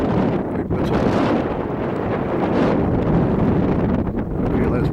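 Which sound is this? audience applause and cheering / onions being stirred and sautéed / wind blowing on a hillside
wind blowing on a hillside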